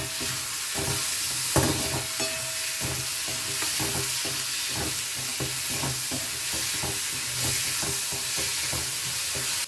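Garlic and chopped tomato sizzle and crackle in a hot pan while a spoon stirs and scrapes repeatedly, close and steady, with no talking.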